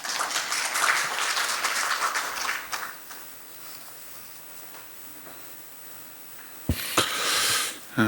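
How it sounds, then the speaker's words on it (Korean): An audience at a Korean vision-declaration ceremony applauds to welcome a speaker. Moderate clapping fills the first few seconds, then quiets to near silence, and a short renewed burst of claps follows near the end. "박수로 맞이해 주시기 바랍니다"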